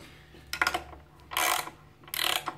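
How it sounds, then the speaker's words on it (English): A socket ratchet tightens a nut on a table leg during furniture assembly, giving three separate bursts of close, crisp pawl clicking with short pauses between them. "you can then put the ratchet end onto the nut and tighten it"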